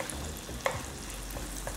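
Shrimp frying in a hot pan over high heat, a steady close sizzle with one brief clink of a utensil.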